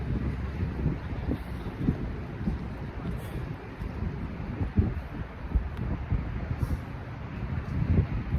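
Wind blowing outdoors during a calisthenics workout, a continuous heavy low rumble buffeting the microphone throughout, rising and falling in gusts.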